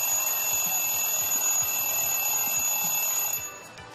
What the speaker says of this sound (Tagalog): Alarm. Alarm clock.